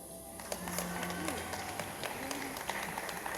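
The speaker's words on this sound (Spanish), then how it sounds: "El aplauso, muy bien." Guests clap and cheer at a quinceañera party, a brief burst of scattered applause from a crowd, with some talk over it.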